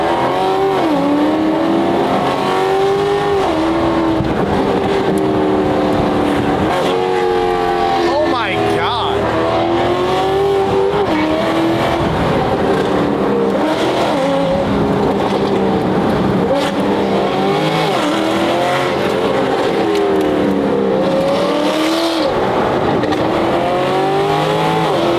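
A $250k Mercedes runs with its exhaust valve open so the exhaust bypasses the muffler, its engine droning loud and close as the revs rise and fall in repeated sweeps for over twenty seconds.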